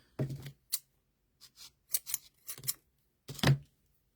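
Scissors snip strings while a turkey is being trussed in a kitchen, a series of crisp, close metallic cuts and clicks with short quiet gaps between them.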